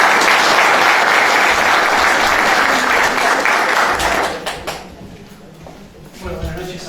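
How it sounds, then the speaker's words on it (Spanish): A large audience at a foundation gathering applauds loudly to welcome an advisor. The clapping is dense for several seconds, then tapers off into scattered claps and murmuring voices. "le damos un gran aplauso"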